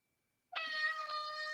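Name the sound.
cat meowing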